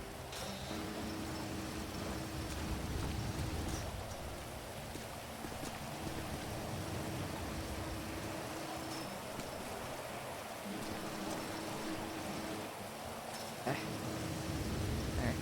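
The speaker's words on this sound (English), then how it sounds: "Always throws me when it's raining and it's not close to" Rain falling in a video game roleplay setting, a steady wash of drops hissing continuously throughout, with faint background sounds and no voices.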